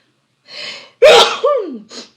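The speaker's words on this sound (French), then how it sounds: "J'ai envie d'éternuer." A single loud sneeze: a short breathy intake, then a sharp explosive burst trailing into a falling vocal tail, with a quick breath after.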